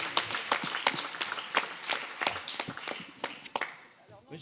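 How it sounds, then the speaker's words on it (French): Scattered clapping from a small audience at a prize-giving ceremony, sharp individual claps in an uneven patter over about four seconds, with a voice talking through it. "On l'applaudit quand même."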